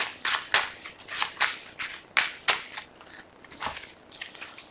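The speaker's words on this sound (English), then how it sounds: "I'll need to shuffle the deck first." A Yu-Gi-Oh Dark World structure deck of trading cards being shuffled by hand, a rapid series of sharp crisp snaps and riffles, about a dozen quick bursts in an uneven rhythm, close up.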